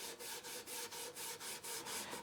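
Steel wool rubs along the grain of a wood finish while paste wax is applied, a close, raspy back-and-forth scrubbing in even rhythmic strokes, about ten passes, with no talk.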